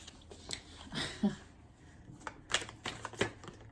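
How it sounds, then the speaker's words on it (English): Tarot cards are tossed across a floor, giving a faint scatter of soft slaps and shuffling flicks in irregular bursts, with quiet breathing and small movements between them. "We have the Tarotist throwing cards all across the floor."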